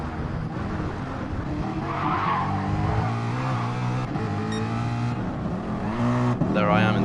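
The Freedom Machine race car skids off into the gravel trap at Le Mans, tyres squealing and engine droning as it slides, with a commentator talking over the car noise throughout.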